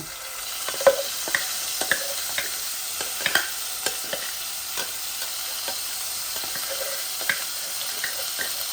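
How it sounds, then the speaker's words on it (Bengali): Grated onion frying in a pan: a soft continuous sizzle punctuated by light scraping taps of a spoon, close and fairly quiet, with no talking. "গ্রেট করা অনিয়ন দিয়ে রান্ধিলাম"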